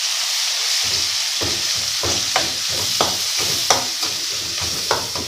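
Onion paste fries in oil in a pan for egg masala curry, a steady loud sizzle broken by a regular rhythm of spatula scrapes and stirs.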